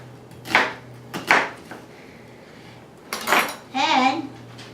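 Half an onion being chopped with a knife on a kitchen board, heard as a few separate knife strikes with clattering utensil noise, moderately loud and close, with no talking.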